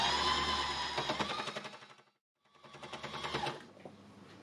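An embellishing machine needles fabric in two bursts of fast, rapid mechanical chattering with a short silent pause between them, close and fairly loud, with no voices.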